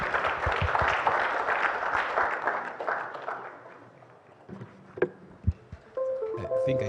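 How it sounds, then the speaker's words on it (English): A conference audience applauds panelists at a youth employment event, full clapping that fades out over several seconds, followed by a few scattered handling knocks and a brief stretch of quieter room sound. "Another round of applause for the panelists."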